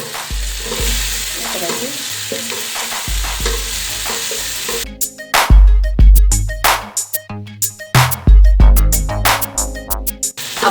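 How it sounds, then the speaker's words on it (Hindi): Ground green chilies stirred into frying kadu gosht, pumpkin cooked with meat, with a steady sizzle joined by loud, repeated scraping clatters of a spoon against the pot, close and busy, after a brief spoken phrase. "ये सब्ज़ मिर्च जो मैंने पीस के रखी थी ये भी इसके अंदर ऐड कर देंगे और हिला देंगे इसको"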